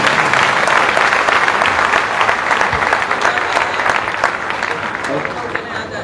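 An audience at a diksha ceremony claps in sustained, dense applause close by, slowly fading toward the end, with voices mixed in.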